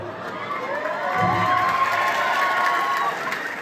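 Crowd of schoolchildren cheering and clapping at a film promotion event, a sustained loud mix of shouts and applause that swells after the first second and holds steady to the end.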